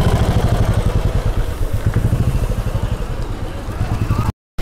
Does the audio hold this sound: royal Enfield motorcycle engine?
yes